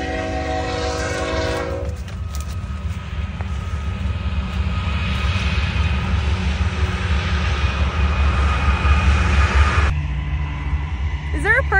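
A train's locomotives roll past close by, a heavy continuous rumble and rattle of railcars that opens with a blast of the horn and ends with another horn sound, while people talk nearby.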